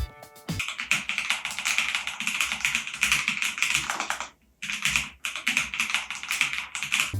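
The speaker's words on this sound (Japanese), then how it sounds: "このキーボード、タイピング感と打鍵感がとにかくいいです" Typing on a Space Gray Lofree Flow mechanical keyboard with tactile brown switches at a creator's desk. Steady rapid clacking close to the mic, with one brief pause midway before the typing resumes.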